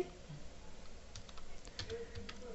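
Profile bio text is typed on a computer keyboard, a quiet, irregular patter of key clicks over a low background hum.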